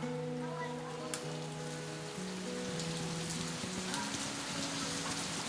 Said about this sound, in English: it is still the rain season, so we're kind of stuck in the rain under a house here in the middle of the village